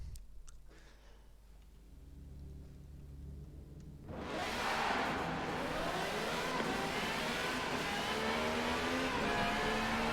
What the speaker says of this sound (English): that's the Screamer engine